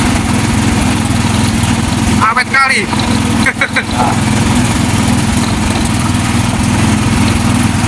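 An old machine at a food seller's stall, in use since 1992, runs with a loud, steady motor drone throughout, while a person speaks briefly midway.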